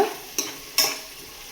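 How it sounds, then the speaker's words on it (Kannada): Garlic frying in hot oil in a pan for pepper chicken fry, a steady sizzle punctuated by two sharp scraping strokes of a spatula, close and fairly loud. "ಬೆಳ್ಳುಳ್ಳಿಯಲ್ಲಿರೋ ಹಸಿ ವಾಸನೆ ಎಲ್ಲ ಹೋಗಬೇಕು, ಅಲ್ಲಿವರೆಗೂ ಇದನ್ನು ಫ್ರೈ ಮಾಡ್ಕೊಳ್ಳೋಣ"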